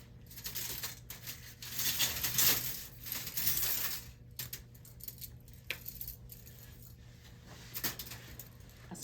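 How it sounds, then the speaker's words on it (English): Metal surgical instruments are laid one by one into an instrument pan in a surgical skills lab, giving faint, scattered clinks and rattles with quiet pauses between them. "gonna put these back in the back of the instrument pan"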